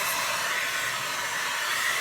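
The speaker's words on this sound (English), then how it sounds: "I'm just going to take my blow dryer on low and just apply a little bit of heat to those" A hair dryer set on low blows warm air onto velcro rollers, a steady, even whooshing hiss held constant from start to finish, close and uninterrupted, with no speech.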